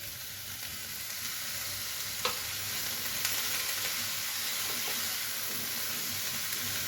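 Shrimp sizzle and hiss steadily in a frying pan just after coriander leaves go in, a constant soft crackle with a few light clicks of stirring, no voices.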